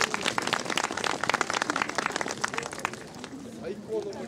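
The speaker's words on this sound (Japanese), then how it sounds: "お互いに大きな拍手を。" Audience applauding at a Nagoya samurai troupe show with children present, bright clustered hand claps that thin out toward the end, as a voice begins speaking.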